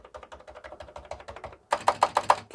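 Rapid keystrokes on a Commodore 64 breadbin home computer keyboard, recovered from a flood, clatter close up in steady bursts, with a louder, harder run of clicks near the end.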